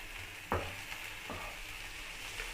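Egg puff filling with coriander gets a light stir in a pan: a faint, soft sizzle carries under two brief scraping strokes near the start, then it fades to quiet frying.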